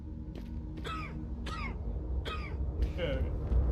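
Four short, harsh coughs come at roughly even intervals from a character in Deus Ex: Human Revolution Director's Cut, heard over low game ambience.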